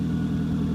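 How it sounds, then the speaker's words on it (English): A 2005 Nissan Altima 2.5 engine runs steadily at idle, a loud, close, continuous low rumble with no talking. "Engine test for J&J Auto Wrecking"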